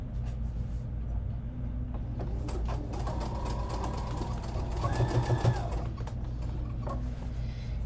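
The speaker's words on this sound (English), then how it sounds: "we're just going to sew around this leg real quick." A sewing machine stitches around the leg of white jeans, its steady mechanical whir and rapid needle chatter running continuously at moderate volume, with a brief rise in intensity partway through.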